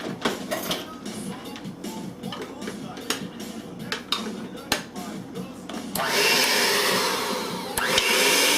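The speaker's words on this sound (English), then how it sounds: "We have to whisk up the egg whites." Egg whites whisked in a bowl for a Sri Lankan Christmas cake, a busy close whirring with scattered clinks, then a louder, brighter steady whir in the final seconds.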